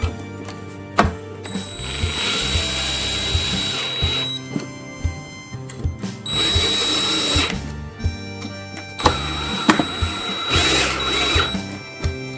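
A power drill runs in several bursts of a few seconds each, driving screws down to fasten a controller plate, with ratcheting, clicking mechanical noise between the runs and no talking.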